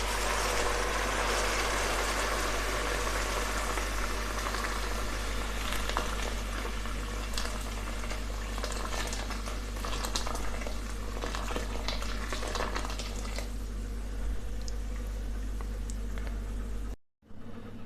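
Water added to fried tomato paste for a soupy rice dish simmers with a constant, dense bubbling hiss over a low hum, close and steady throughout until it cuts off abruptly near the end.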